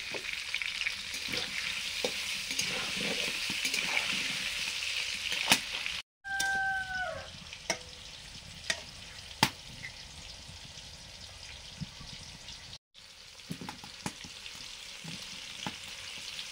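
Cauliflower florets fry in hot oil with a steady, dense sizzle running throughout. Two very brief dropouts break it, and a short tonal squeak is heard near the middle.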